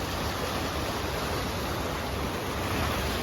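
Continuous, dense roar of heavy rain and fast-flowing water rushing across a cement road, a loud, even wash of noise with no breaks and no voices.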